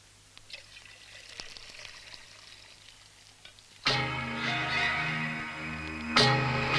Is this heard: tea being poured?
yes